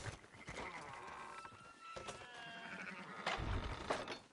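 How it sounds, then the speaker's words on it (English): Several sheep bleat in Red Dead Redemption 2, wavering, nasal cries, a couple overlapping, heard clearly against a quiet background. "Fine sheep."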